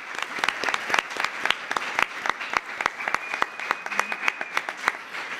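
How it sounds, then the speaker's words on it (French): A congregation at a Sunday church service applauds to thank departing members, sharp individual claps rising into sustained applause across the hall for several seconds. "on peut vraiment les applaudir pour les remercier pour tout ce qu'ils ont donné"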